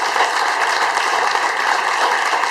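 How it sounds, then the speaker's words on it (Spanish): A church congregation applauds loudly and steadily during a sermon, a dense, even wash of clapping that fills the whole stretch without pause. "si le va a aplaudir, apláudale con fuerza al Rey de Reyes"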